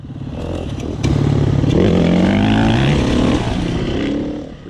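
Dirt bikes at Mt Kembla motocross track, a Suzuki RMZ250 and a Yamaha YZ85 among them, rev and accelerate close by in loud, rising and falling bursts with some clatter.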